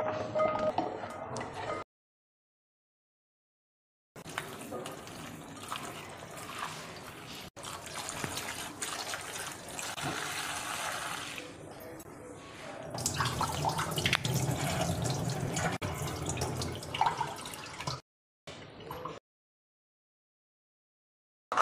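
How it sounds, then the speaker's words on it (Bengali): Cut raw green mangoes are rinsed under a running tap, a steady splash of water broken by brief pauses, with handling noises as the pieces are washed. "এবার আমগুলোকে আরেকবার ভালোভাবে একটু ধুয়ে নেব।"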